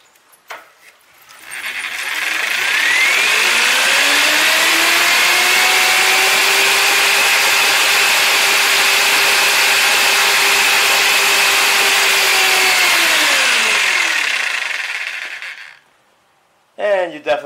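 Jigsaw powered by a pedal bike generator whines up to a loud, steady cutting tone, holds at full speed for about ten seconds, then winds down and stops.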